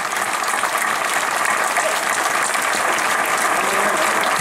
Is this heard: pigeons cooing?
no